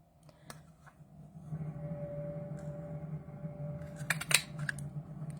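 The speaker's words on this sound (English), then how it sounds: "And it just trims the end off" Paper trimmer blade slicing the end off a piece of cardstock for a stamping craft project, a short crisp cutting stroke with a few sharp clicks near the end, close and fairly quiet over a steady low hum.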